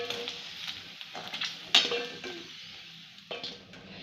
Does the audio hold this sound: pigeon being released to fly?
no